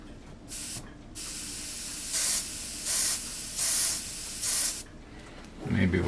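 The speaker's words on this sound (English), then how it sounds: "Somehow it didn't seem to be spraying right." An airbrush sprays paint on a model ship in short hissing bursts, about five spurts of steady airy spray separated by pauses, close and moderately loud.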